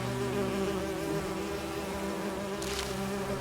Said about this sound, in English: It's a little honey hive. You can knock them down, but the bees don't sting you.